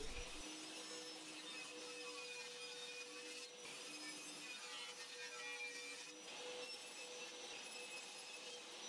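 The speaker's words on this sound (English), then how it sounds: "Then I cut all the parts for the basic case from 12 mm MDF" A saw drones steadily while cutting miters in 12 mm MDF case parts, with faint dips in pitch as the blade works through the board, no voices present.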